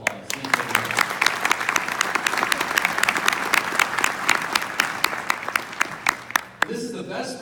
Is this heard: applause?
yes